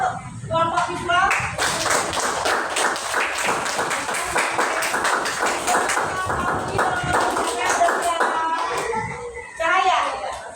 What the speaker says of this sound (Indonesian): Tepuk tangan dong untuk kelompok visual